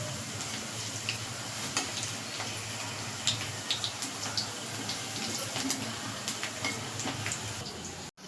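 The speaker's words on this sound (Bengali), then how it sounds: "এক পিঠ লাল হয়ে গেছে, আরেক পিঠ লাল করে ভাজ দিচ্ছি" Chitol fish frying in a pan, a steady close hiss of hot oil with scattered pops and light utensil taps, cutting off abruptly at the end.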